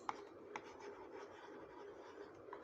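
Chalk or marker scratching across a board during a lesson, a few sharp taps and strokes over a faint steady room hum.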